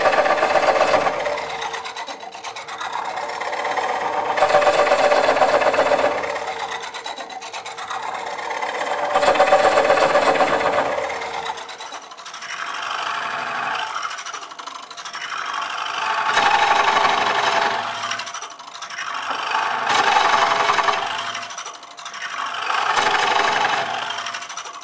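A Woodcut Bowlsaver coring a nest of wooden bowls on a lathe gives a steady scraping, rasping cut that swells and eases in repeated cycles of a few seconds each, close and continuous with no talk.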